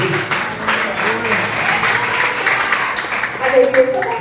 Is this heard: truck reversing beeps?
no